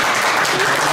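An audience claps at a Korean commemorative gathering, a dense, continuous burst of many hands heard up close and loud, filling the short moment without any talking.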